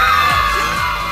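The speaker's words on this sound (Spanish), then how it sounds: "ya las chicas empiezan a gritar" Girls in a studio audience on a TV cooking show scream together in a steady, high-pitched roar, loud and sustained throughout, with a faint musical backing underneath.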